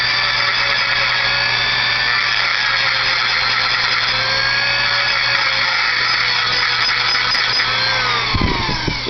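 A grinding stone on a rotary tool lightly touches the high spots of a staked-in U-joint, a steady high-pitched motor whine with faint scraping, continuous and close, winding down abruptly at the end.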